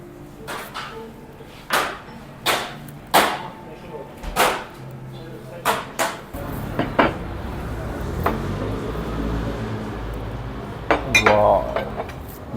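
Restaurant in Cappadocia serving baklava and fresh coffee, with sharp repeated clinks of dishes and cutlery at a table nearby, then a busier wash of room clatter and chatter, and someone talking throughout.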